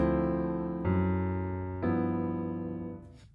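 A piano walking bass line approaching G chromatically from beneath, three deep sustained bass notes struck one after another and left ringing as they fade, heard close and alone.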